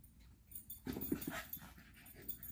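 Dogs pant and whimper indoors, a soft, breathy run of panting with brief whines, clearer for about a second in the middle and faint elsewhere.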